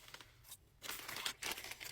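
Packaging being torn open by hand during an unboxing, with no scissors used: rough, close ripping bursts in two or three short pulls, loud and dry, with no talking.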